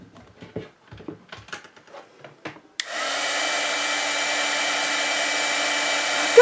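Heat tool setting embossing ink on a tag-style gift card holder, starting after a few soft taps and then blowing as a loud, steady, continuous whoosh close by.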